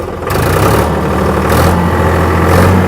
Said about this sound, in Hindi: तो पहले मैं क्लच दबा के ट्रैक्टर चालू कर रहा हूँ, दोनों गियर न्यूट्रल है।